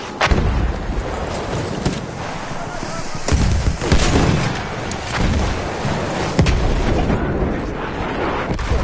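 A grenade blows up amid gunfire in a video game: heavy booming blasts and sharp shots recur across the stretch, loud and close, with a voice shouting over the battle.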